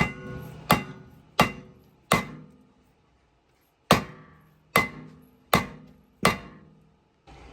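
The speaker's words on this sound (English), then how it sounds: "Other times, it takes a little rubber mallet." A rubber mallet strikes a brake rotor on a Kia Sorento during a rear brake job, giving sharp, ringing metallic thumps: three quick blows, a pause, then four more in a steady rhythm, each decaying briefly.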